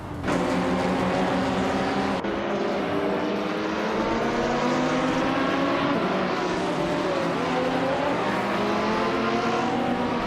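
GT4 and WTC race cars roaring around a circuit, a dense sustained engine drone with layered harmonic whine from several cars bunched together, steady and loud throughout with no voices.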